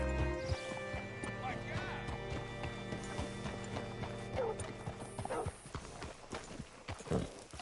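Steady clip-clop of horse hooves walking in a video game, with a brief whinny and some mechanical creaking in the background, fairly close and continuous.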